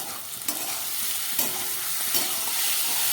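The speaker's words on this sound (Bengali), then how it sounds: "এটাকে বারবার নাড়াচাড়া করে মশলাগুলোকে ভেজে নিতে হবে ঢেঁড়সের সঙ্গে।" Okra with spices stirred and fried in a pan over high gas, a steady sizzle with several sharp scrapes of the spoon against the pan spread through the clip.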